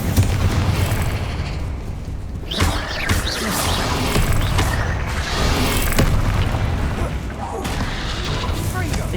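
Fire spell being cast in Hogwarts Legacy, a dense roaring whoosh of flame with booming bursts and crackling magic effects swelling over several seconds, loud and continuous with game sound layered underneath.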